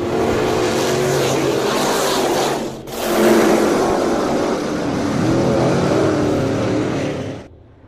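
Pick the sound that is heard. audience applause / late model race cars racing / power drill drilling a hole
late model race cars racing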